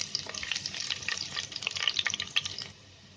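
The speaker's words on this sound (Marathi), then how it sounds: "आता याच्यामध्ये लसूण टाकायची" Garlic frying in hot oil for chicken handi, a bright crackling sizzle that stays busy and fairly close before dropping off near the end.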